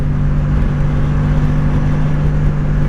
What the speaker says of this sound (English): This bike almost sounds like it has a turbo whine.